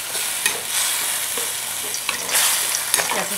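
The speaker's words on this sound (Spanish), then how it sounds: "Ya se está friendo el jitomate." Tomato frying in a clay pot for a coastal-style beef broth, a steady close sizzle with scraping stirring strokes throughout and no voices.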